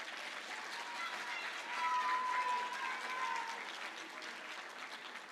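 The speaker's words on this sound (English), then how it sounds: "graduates, give your families a round of applause" Graduates at a Reginald F. Lewis High School graduation ceremony applaud their families, a broad, steady wash of clapping from a large crowd that swells briefly in the middle and carries on without speech.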